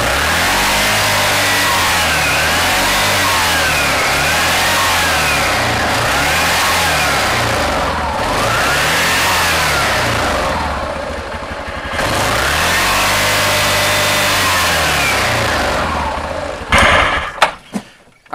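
A UTV engine in drive revs up and down in several repeated surges as the gas pedal is pressed and released, loud and close, with the pitch sweeping up and falling back each time before a clatter at the end.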